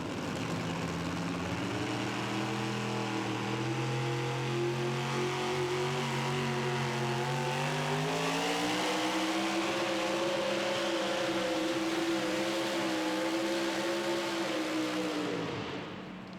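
A Ford Hemi, the shotgun Hemi in a 4WD pulling truck at a 2014 Indianapolis pull, revs hard and steadily for about sixteen seconds, its pitch climbing and sagging as it works, loud and close with no talk over it.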